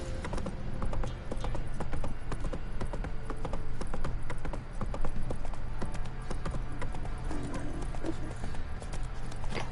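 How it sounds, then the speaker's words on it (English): Horse hooves in The Witcher 3 video game, a steady, loud, fast clip-clop of a riding horse that continues across the whole stretch, with no talk over it. "I'm going in with my horse."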